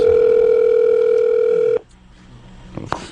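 A loud, steady telephone dial tone holds for nearly two seconds, then cuts off sharply, leaving a quiet line with a faint click near the end.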